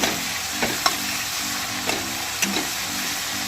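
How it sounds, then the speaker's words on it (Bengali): Chopped onions and chilli fry lightly in mustard oil in a wok, with a continuous close sizzle broken by several soft scraping stirs at irregular intervals. "পেঁয়াজটাকে আমি হালকা ভাজা ভাজা করে নেব"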